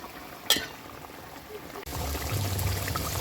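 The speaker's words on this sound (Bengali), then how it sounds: "আমি জল ঢেলে দিচ্ছি ঝোলটা ফুটে উঠেছে এবার আমি পাবদা মাছগুলো দিয়ে দিচ্ছি" Water pours into a simmering pabda fish curry gravy in a home kitchen, a brief splash followed by a steady louder pouring and bubbling that continues to the end.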